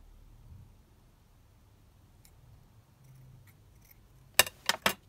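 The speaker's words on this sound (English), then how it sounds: "Let me just cut off those like fray type sections bits." Scissors snipping frayed bits off a craft embellishment, two or three quick crisp cuts close by near the end after a faint rustle of handling.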